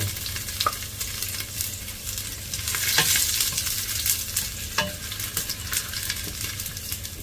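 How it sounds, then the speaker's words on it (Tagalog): Garlic sizzles steadily in a very hot pan for Bicol Express, with repeated scraping clinks of a utensil stirring it, close and continuous with no talk. "Lagyan na natin sunod agad kasi mabilis na naluluto ang bawang."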